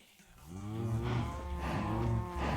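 Cattle moo in a video game, two long, loud, close lowing calls one after the other with no talking over them.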